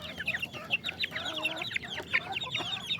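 Native chicks cluck and peep softly and continuously while pecking at feed at midday, a busy, close-up chatter of small overlapping calls with no talking.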